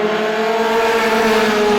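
Roadrunner-class race cars at Star Speedway roar back up to speed on a green-flag restart, a loud, steady engine drone of several cars together that holds continuous throughout, with no talking.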